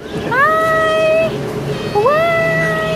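A cat gives two clear, close meows, the first drawn out and the second rising, over faint background murmur.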